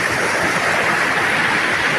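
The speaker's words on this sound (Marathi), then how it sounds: "धबधब्यांनी भरलेला ढव आपला." Water from three waterfalls pours steadily into a river pool in the Konkan countryside, a dense, even rushing roar that stays close and loud without a break.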